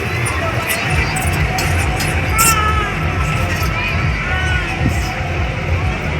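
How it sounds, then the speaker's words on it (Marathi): A large, dense crowd mills about at a Ram chariot festival, a loud continuous babble of voices with children shouting and occasional cheers rising over it. "एवढी गर्दी आहे तर बोलायला आवाज नाही"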